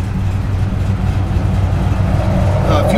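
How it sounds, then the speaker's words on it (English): Engine of a 1955 Ford F100 pickup running with a lopey cam, a loud close low rumble with a rhythmic uneven idle that swells slightly toward the end. "Great sound, nice little lope to the cam."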